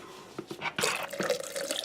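Potassium hydroxide solution poured into a soap-making crock for beldi gel soap, a short burst of close liquid splashing and dripping with no talk.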